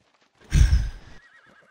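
A horse in the video game ARK gives a single short, loud whinny lasting under a second, with faint hoof clops around it.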